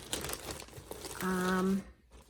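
A plastic bag crinkles and rustles close by in a series of quick crackling handling sounds, with a brief hum-like vocal sound partway through.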